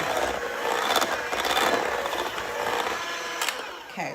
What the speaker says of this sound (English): So now I can go even faster, because if I don't, the frosting is going to climb up into the shaft of the mixer.